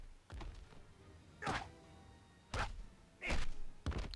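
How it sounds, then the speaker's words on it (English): Spin kick hits land in the Injustice: Gods Among Us fighting game, five dull thumps and whacks spaced about a second apart, fairly quiet, with no talk. "I like his spin kick."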